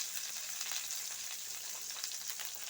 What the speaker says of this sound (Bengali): একটা শুকনো লঙ্কাকে আমি ফাটিয়ে দিলাম